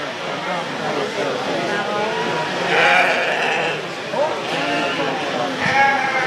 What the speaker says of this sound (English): a really attractive, youthful Ram here to third